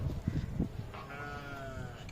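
A castrated male goat at a Lahore livestock market gives a wavering bleat, heard after some low rumbling and thumps amid market background noise.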